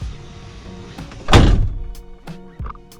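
Van door with Thinsulate insulation and sound deadening pulled shut close by: one solid, damped thunk, followed by a few softer clicks and a lighter knock from the latch and panel.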